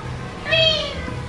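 A human voice imitates a cat's meow in one drawn-out, rising-then-falling call, close and clear over a faint background hum.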